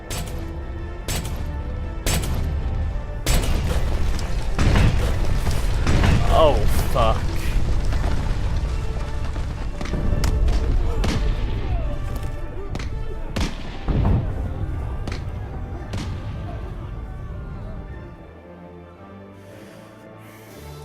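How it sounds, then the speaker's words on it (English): Cannon fire in the video game Aviary Attorney: a series of heavy booms and thuds, some overlapping into a rumbling barrage, fading toward the end, with a voice reacting in the background. "Fire every cannon!"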